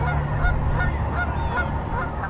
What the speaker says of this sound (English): A flock of seagulls hovering over the Providence River.